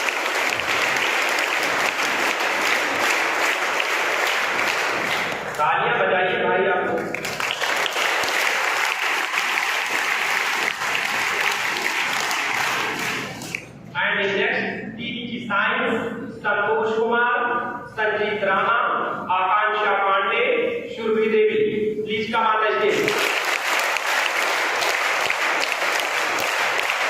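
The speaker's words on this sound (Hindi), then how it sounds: "तालियां बजाइए।" An audience at a Teachers Day school event claps in long sustained bursts, dense and loud, with an announcer's voice speaking over the stage between rounds of applause.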